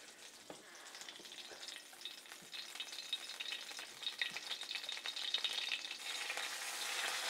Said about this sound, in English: now I'm going to put the onions in there